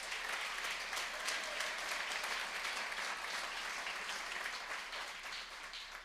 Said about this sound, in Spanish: déle un aplauso al Señor